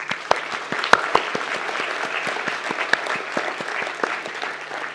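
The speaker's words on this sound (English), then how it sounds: "Ladies and gentlemen, please join me in applauding our graduates for their achievements." An audience applauds graduates at a University of London presentation ceremony, giving dense, sustained clapping with sharp individual claps standing out, steady and fairly loud throughout with no talk.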